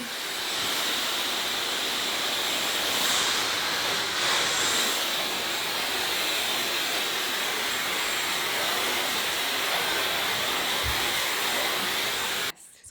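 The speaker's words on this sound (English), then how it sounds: "we're going to dry our hair" A hair dryer blows a loud, continuous broadband whoosh while drying hair, steady for the whole stretch with slight shifts as it moves, then clicks off at the very end; no one speaks.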